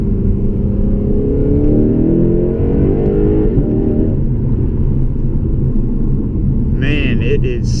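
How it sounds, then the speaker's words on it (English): Lexus RC F in sport mode accelerating hard in second gear, its V8 exhaust roaring as the engine note climbs through the revs, loud and close from inside the cabin, followed by a brief shift and a higher whine near the end. "that exhaust definitely woke this car up"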